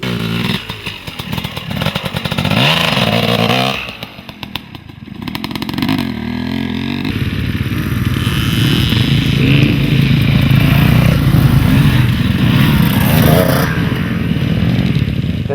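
Motorcycle engine at low speed during slow-riding practice, a steady loud idle-to-low rumble with a brief dip in the middle, then a sustained throttle hum through the rest.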